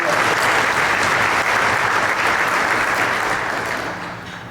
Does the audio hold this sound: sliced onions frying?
no